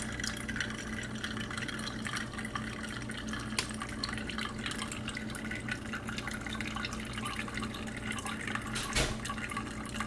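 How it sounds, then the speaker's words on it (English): Bottled water pours steadily through a filter into a cup, a continuous close trickle and splash lasting throughout with a few small knocks, with no talking. "I'm going to pour that water from the same bottle into this through the filter."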